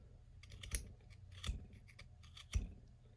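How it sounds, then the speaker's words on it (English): Three sharp, close snips, spaced about a second apart, as cutters trim a sprue mark from a plastic model kit part. No one speaks. "I'm just going to cut this little sprue mark off because it's ugly as hell."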